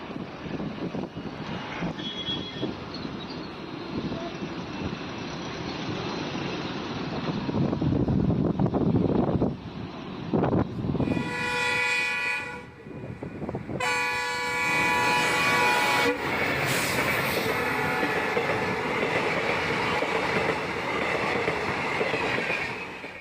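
A train rumbles steadily across the Pamban vertical-lift railway bridge on a trial run, with clattering wheels, and its horn sounds loudly partway through before the roar continues.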